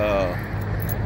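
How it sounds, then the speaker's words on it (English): A bunch of keys jangles briefly up close at the start while someone talks over it, with a car's low hum underneath. "I got too many keys on me"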